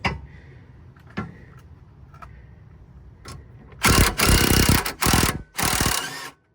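Ratchet tightening the rear sway bar link nut on a Lexus ES350, with a few faint clicks and then several loud, close bursts of rapid ratcheting near the end.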